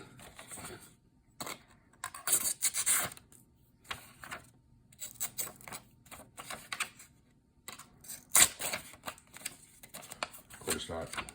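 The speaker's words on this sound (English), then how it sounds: "So let's see how it does against that piece of paper now." A freshly sharpened knife, honed on a Work Sharp field sharpener, slices through a sheet of paper in repeated short, crisp rasping strokes with pauses between, close and moderately loud.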